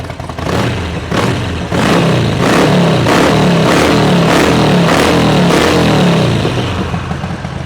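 A Harley-Davidson Sportster 50th Anniversary 1200cc Evolution engine revs repeatedly, a loud, throaty V-twin rumble rising and falling in rhythmic pulses close by.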